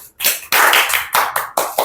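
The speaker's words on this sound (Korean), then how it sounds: "박수 한번 줍시다" Students clapping in a classroom lesson, a few loud bursts of hand claps in uneven bursts, close and without talk.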